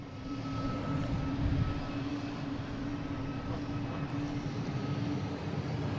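A United Boeing 737 MAX 9 airliner at Boston Logan rumbles with a steady, fairly loud engine roar and a sustained tonal hum, heard alone across the airfield.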